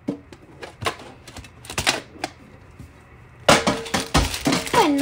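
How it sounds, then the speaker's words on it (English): A pack of Upper Deck Premier hockey trading cards is torn open up close, with scattered crisp crackles and snaps of wrapper, then a louder, denser burst of tearing and crinkling near the end. "I'm going to open the pack."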